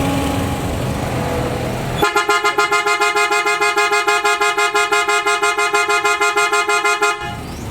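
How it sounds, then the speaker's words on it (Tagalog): A PIAA Superior Bass dual car horn fitted to a 2024 Toyota Wigo blasts loud and close in a rapid string of short, evenly spaced honks for about five seconds, then cuts off abruptly after a quieter lead-in. "pakinggan natin mga boss yung tunog ngayon ng Superior Bass Horn"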